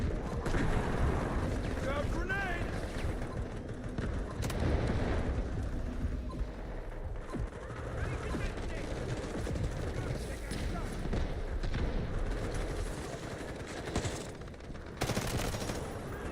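Bursts of automatic gunfire and explosions rattle through a first-person shooter match in Wildgate or Delta Force, dense and continuous, with a player's voice talking over the din.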